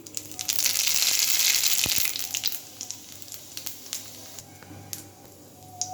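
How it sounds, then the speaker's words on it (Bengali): Whole spices, including coriander seeds and radhuni, hit well-heated oil for tempering, setting off a loud burst of sizzling that eases into softer crackles and scattered pops. "তেল খুব ভালোভাবে গরম হয়ে গেছে ফোড়নে দিয়ে দিচ্ছি"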